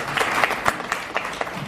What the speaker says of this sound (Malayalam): യെസ്, നല്ലൊരു ക്ലാപ്പ് നമുക്ക് വേണ്ടി അടിക്കാം.